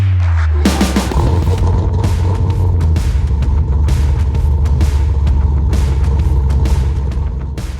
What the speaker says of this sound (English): Those car sounds were from Brandon at the Cars and Health Bars podcast.